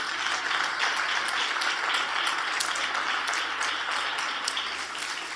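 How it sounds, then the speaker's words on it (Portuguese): A church congregation applauds together at a lively service, a steady dense wash of clapping that holds evenly throughout without pause. "Quiser aplaudir o Senhor, pode aplaudir."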